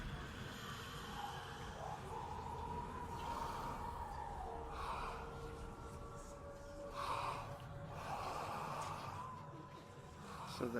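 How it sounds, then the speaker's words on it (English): An attached severed head breathing in the video game Hellblade: Senua's Sacrifice VR Edition, heard as slow, raspy gasping breaths and snorts recurring over a murky ambient background, fairly faint. "So the head that she had kind of attached was breathing."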